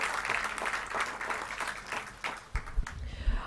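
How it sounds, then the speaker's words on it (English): Indoor audience clapping for people on a stage at an aviation awards celebration, a dense round of applause that thins out near the end with a few heavier bumps and scattered claps. "a round of applause for everyone on the stage"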